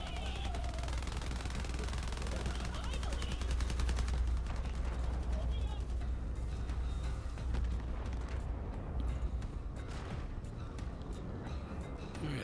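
Moze fires a relentless barrage of missiles and gunfire at Scraptrap Prime in Borderlands 3, dense rapid blasts and explosions with a deep rumbling low end, someone talking over them.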